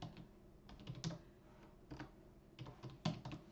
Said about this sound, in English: type in the name.